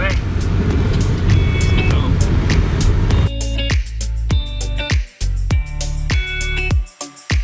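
A car drives along island roads in Niue, its steady engine and road rumble heard from inside the cabin while voices talk over it.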